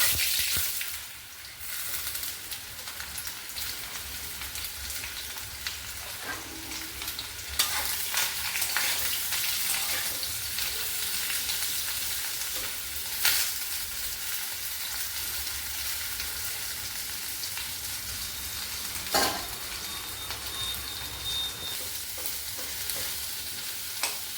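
Okra frying in hot oil in a wok, a continuous close sizzle with occasional stirring scrapes and clinks throughout, no talking.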